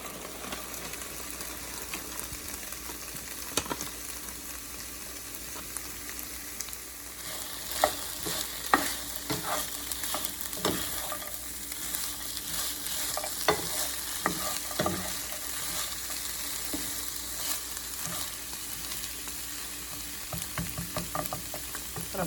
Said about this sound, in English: I have half of a bag of Gardein beefless grounds that I'm just gonna toss right in